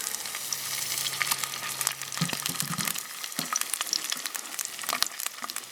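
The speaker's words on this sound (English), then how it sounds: "Lake trout is in the fry pan." Lake trout sizzling in a frying pan on a woodstove in winter, a constant close crackle and hiss with a few sharp pops and light scraping clinks, alone without speech.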